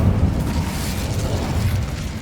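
An Incendio fire spell going off in Hogwarts Legacy, a sustained booming, roaring burst with crackling rumble that carries steadily for a couple of seconds, loud and close with no voices over it.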